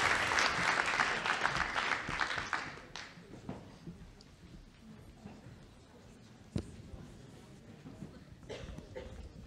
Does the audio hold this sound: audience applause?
yes